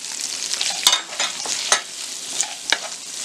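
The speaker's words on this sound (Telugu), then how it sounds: "ఇందులోని 2 ఆనియన్స్ ఇలా కట్ చేసుకొని వేసుకొని ఫ్రై చేసుకోవాలి" Two chopped onions fry in melted butter, a soft steady sizzle broken by a few sharp clicks of stirring, close and fairly quiet.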